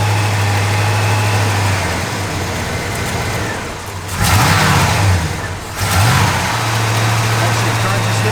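A 1972 Chevrolet Malibu engine idles steadily, then revs up twice in quick bursts before settling back to a steady idle; a voice speaks faintly underneath.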